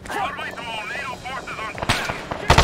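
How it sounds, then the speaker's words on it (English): Arma 3 gunfire in a firefight, with sharp bursts of shots breaking in near the end, layered under excited voices calling out during combat. "They're shooting at us."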